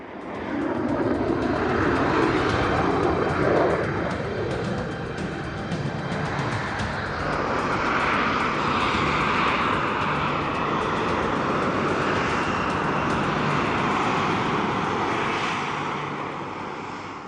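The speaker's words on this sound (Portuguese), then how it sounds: "Para descer o avião, Jackson aproxima-se da área de pouso como um jato convencional." A military Harrier jump jet descends to land with its nozzles swivelled toward the ground, giving a loud, sustained jet roar with a shifting whine that swells and holds for the whole stretch.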